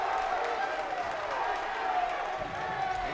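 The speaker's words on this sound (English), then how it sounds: "And you can hear the crowd go nuts as Murphy walked him down in the lane" Crowd at a high school boys basketball game against Billerica roars and cheers steadily and loudly throughout, a dense wash of voices filling the gym with no single voice standing out.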